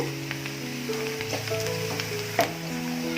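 Biryani masala sizzles and fries hard in a pan over a full flame, a steady close crackle with occasional stirring clatter and no talking.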